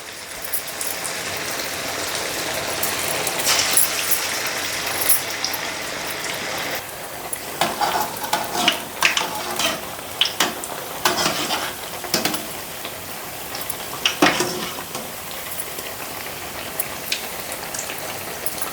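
Corn garelu, Telangana-style makkajonna garelu fritters, fry in oil with a steady broadband sizzle and scattered crackles and pops that grow busier toward the end, with no talking.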